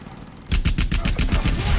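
Rapid burst of gunfire from the Rambo video game: about a dozen quick, evenly spaced shots fired in a continuous automatic stream, loud and close, lasting just over a second.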